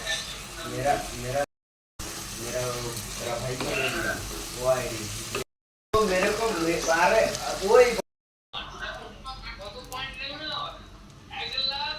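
Turmeric, chili powder and a meat leg piece with a little water sautéing in a pan, a lively close sizzle broken by stirring, with someone talking over it throughout.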